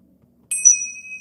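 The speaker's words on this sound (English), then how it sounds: "this is a Tingsha" A well-made Tingsha, a pair of small Tibetan hand cymbals, strikes once with a bright, high, shimmering ding that rings on and slowly fades after near silence, close and clear.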